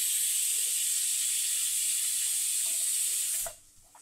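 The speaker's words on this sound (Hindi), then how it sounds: "देखिए हमारे कुकर की सीटी लग गई है" Pressure cooker whistle blowing off steam while cooking paneer dum biryani, a loud continuous hiss that runs steadily for about three and a half seconds and then cuts off abruptly.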